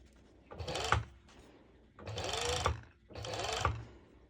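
A home sewing machine stitches stretch fabric for ruched shorts in three close, distinct bursts of rapid mechanical whirring separated by short pauses, with no talking.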